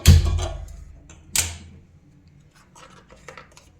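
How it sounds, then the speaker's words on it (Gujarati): A gas stove is switched on as oil heats for tempering tomato ketchup, giving a sharp click burst at the start and another near 1.4 s, with faint ticking afterward. "ગેસ ચાલુ કરી દઈએ."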